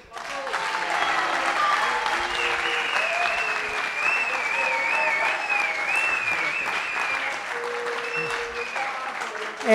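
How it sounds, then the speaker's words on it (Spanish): Strong applause at a legislature event celebrating a Buenos Aires murga troupe, with broad clapping from a packed room mixed with voices calling out and cheering throughout, continuing for nearly ten seconds. "Pido un fuerte aplauso para Papo."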